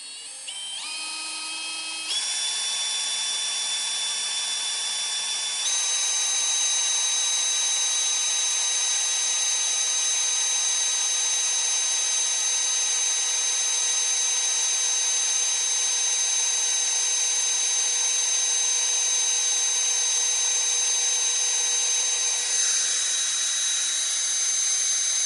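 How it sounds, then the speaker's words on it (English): A power drill bores a hole through a plastic car headlight housing during an LED headlight retrofit on a 1997-99 DSM, giving a loud, steady high-pitched whine that holds for about 25 seconds with slight pitch shifts. "I'm just going to carefully drill."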